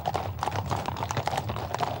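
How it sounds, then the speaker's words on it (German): Hooves of Friesian horses pulling a golden carriage clip-clop in a quick, even rhythm, close and clear, with a low background rumble. "Majestätische Pferde vor der goldenen Kutsche ihrer Majestät."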